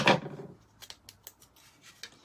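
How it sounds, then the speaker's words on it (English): Scissors snipping into a thin aluminum drink can, one loud crunching cut at the start followed by several small, sharp clicks and snips, close and fairly quiet, with no talking. "you would want to make a little cut right here."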